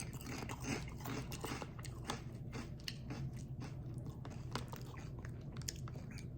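Takis Kettlez Fuego kettle-cooked chips crunched up close, with dense continuous chewing and snapping crackles over several seconds and no talk.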